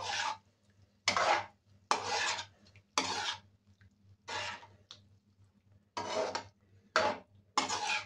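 A spoon scraping and stirring laing in a cooking pot, several separate rasping strokes at an uneven rhythm with short quiet gaps between them, close and fairly soft.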